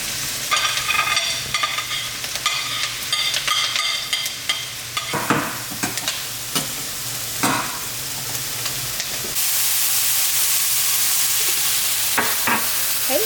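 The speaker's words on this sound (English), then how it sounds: "while our meat's cooking and our vegetables are sauteing" Garlic and mushrooms sauté in a pan, sizzling steadily with repeated scraping stirs and clatters, and the frying grows to a louder, even hiss near the end.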